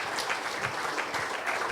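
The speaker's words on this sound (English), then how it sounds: "I just wanted another bit of a clap, you know." An audience claps steadily through a cricket conversation event, a dense, even patter of many hands held at a constant level with no voices rising above it.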